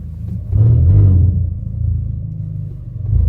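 A Hyundai Veloster N fitted with a Uniclutch Sport clutch rumbles as it pulls slowly out of a driveway, its engine note swelling briefly and then settling into a steady low drone, with a second push of throttle at the end.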